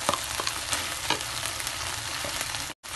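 Onions sizzle and crackle loudly in a hot pan for tuna sisig, a steady close frying hiss with occasional stirring scrapes, cut briefly near the end.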